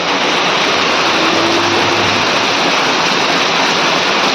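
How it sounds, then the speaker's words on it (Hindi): Heavy monsoon rain pours down in Sikandarpur, India, a loud, dense, steady hiss that fills the scene without pause, with a faint engine hum briefly underneath. "देखिए कितना तेज बारिश पड़ रहा है।"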